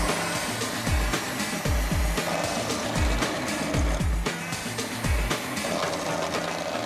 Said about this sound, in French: on prend le côté fin de la lame, on la met dans le robot, on le met en route